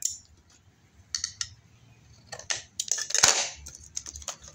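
Scissors snip through paper while a scrapbooking album is assembled, a few short crisp cuts in quick bursts at close range with quiet handling noise between them and no talking.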